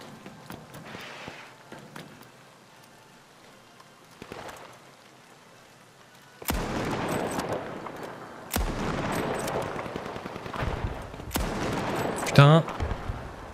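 Automatic weapon fire in the shooter game The Finals rattles in long, dense bursts after a quieter opening, loud and close, with a player's voice briefly heard.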